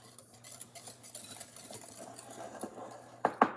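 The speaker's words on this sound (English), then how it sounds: "I'm just going to go ahead and stir that together a little bit." Beaten eggs and sugar stirred together in a bowl, a soft close swishing and scraping that builds gradually, ending in two sharper knocks of the utensil against the bowl.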